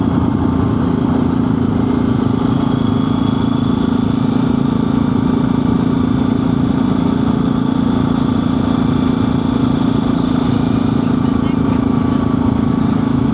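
Several motorcycle engines idle together at a bikers' gathering, a loud, steady, deep rumble that holds close and constant throughout.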